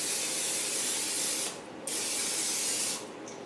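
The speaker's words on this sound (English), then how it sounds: "I have olive oil Pam spray" Olive oil Pam cooking spray hissing onto pretzel-coated chicken fingers, two long close bursts separated by short pauses.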